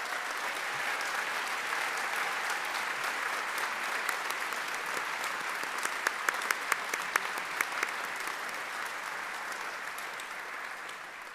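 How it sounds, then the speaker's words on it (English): A university graduation ceremony audience of graduates, families and guests applauds themselves with a long, even wash of many hands clapping. A few sharper claps stand out midway, and the sound stays sustained and moderately distant throughout. "give yourselves a round of applause"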